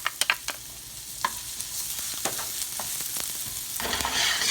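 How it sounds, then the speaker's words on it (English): Onion, garlic and shallots sautéing in olive oil, a gentle sizzle with sharp clicks and scrapes of a utensil against the pan, the frying swelling louder near the end. "We're just gonna pretty much saute these for a couple of minutes until they get nice and tender."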